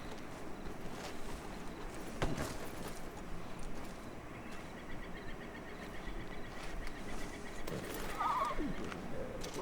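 A horse in the video game Red Dead Redemption 2 whinnies near the end over a steady background of hoofbeats and ambient outdoor noise, all fairly quiet.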